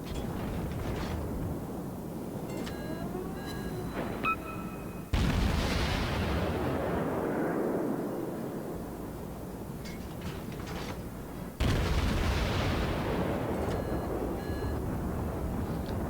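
Naval guns fire in a warship video game, with two heavy booming salvos that roll off into long rumbling decays, plus smaller shots and faint electronic beeps between them. No one speaks.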